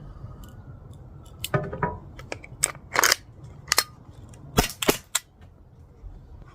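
Several sharp cracks from a Glock 17 Gen 3 BB gun fire at irregular intervals over a low room hum, some close together and a few isolated, all loud and near.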